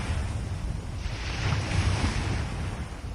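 Steady wash of surf on a sandy beach with broad, rolling noise and a gentle swell in loudness, plus some wind rumble at the microphone; no voices.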